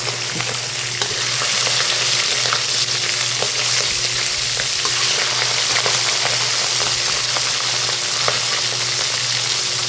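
Bitter gourd sautéing with vermicelli noodles and snow peas in a hot pan gives a steady, loud, continuous sizzle with faint stirring clicks throughout.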